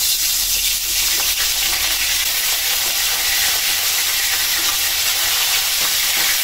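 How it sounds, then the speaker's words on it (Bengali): A hilsa fish head coated in turmeric and chili hisses steadily as it fries in hot oil, a loud, even sizzle from start to finish with no talking. "হলুদের গুঁড়া, মরিচের গুঁড়াতে মাখায় মাথাটা ভেজে নেব।"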